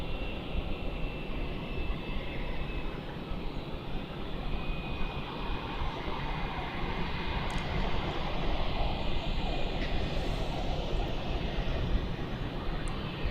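An airliner taking off at Melbourne Airport, a continuous distant jet roar that swells slightly over time, alone without speech.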